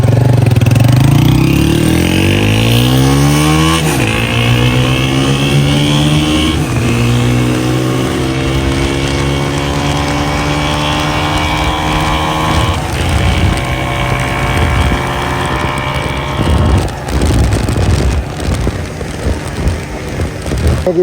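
A 125cc motorcycle, a Honda CG125 or Yamaha YBR125, pulls away hard in a 0 to 100 speed test, its engine note climbing through repeated gear-change sweeps, loud and close for the whole run.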